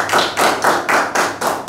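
Audience applause at a mushaira, loud and close, heard as bursts of clapping in a steady rhythm that fills the short stretch with no talking.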